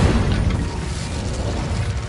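A Bombarda spell blast in Hogwarts Legacy, a loud, rumbling explosion with a broad roaring body that fills the short moment and fades slightly without dying away.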